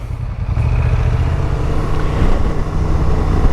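A Honda Transalp 750 motorcycle being ridden, its engine a steady low drone with continuous wind and road rumble at near, even loudness throughout.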